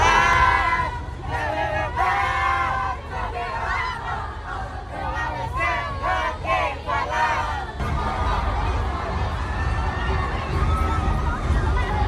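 A big crowd of fans sings along together outside a concert venue in Southeast Asia, a loud, steady mass of voices with shouted, cheering swells rising over the chorus throughout.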